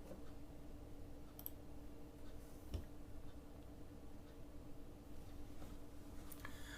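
Faint, isolated clicks of a computer mouse pressing the register button on an online admission form, a sharp tick near the middle with a couple of softer ones around it over a low steady room hum.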